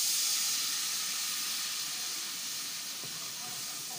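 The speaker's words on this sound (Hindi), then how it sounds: "अब इसमें हम हल्का पानी डालेंगे" A steady, loud hiss of water sizzling as it is added to a hot pan while making tamarind chutney, continuous and slowly easing off, with no other sounds.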